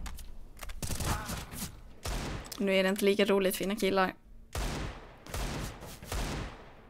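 Gunfire in a shooter video game esports match, with several sharp bursts of shots spaced through the clip, while a commentator talks over them in Swedish.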